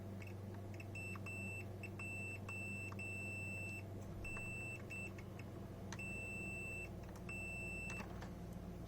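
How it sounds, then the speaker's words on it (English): A multimeter in continuity mode emits repeated short electronic beeps across a shorted capacitor on a Retron 5 circuit board, quiet and intermittent over a low background hum. "Usually whenever you check a capacitor, it shouldn't beep from side to side like that."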